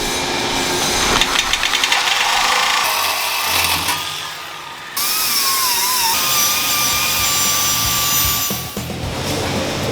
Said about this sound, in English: I'm going to take a Sawzall and cut down this line